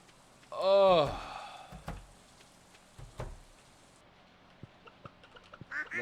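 In the farming game Stardew Valley, a single loud, nasal duck quack sounds close by, followed by soft scattered clicks and light thuds in an otherwise quiet scene.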